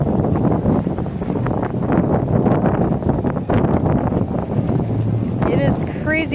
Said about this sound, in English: It is crazy, crazy windy today, guys.